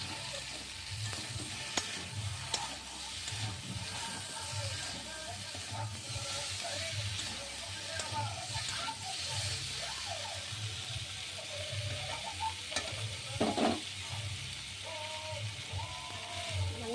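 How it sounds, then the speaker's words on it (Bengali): Cauliflower and potato pieces fried and stirred in a pan, a steady close sizzle with intermittent scraping of the spatula, sounding alone without speech. "ফুলকপি আলুটা কষাই নিচ্ছি"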